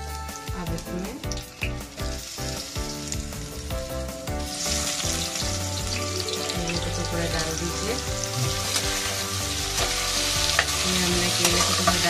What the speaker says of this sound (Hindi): अब गैस को जो है धीमा करके इसको फ्राई होने दीजिए